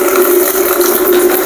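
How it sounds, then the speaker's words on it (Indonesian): Water running steadily from a tap into a bucket, a loud continuous rushing hiss with a steady tone, no talk over it. "Saya akan membuat noise dari air ya. Dari sini, dari keran dan ember."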